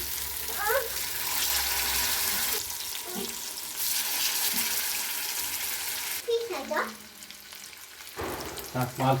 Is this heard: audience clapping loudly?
no